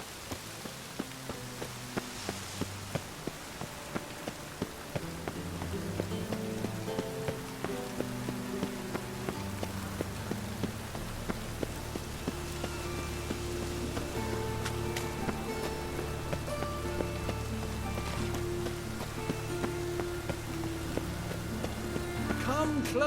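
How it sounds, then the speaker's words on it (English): Light rain pattering steadily in a town in The Witcher 3: Wild Hunt, a soft continuous wash beneath a droning music bed and intermittent muffled voices. "Light rain keeps the rogues indoors."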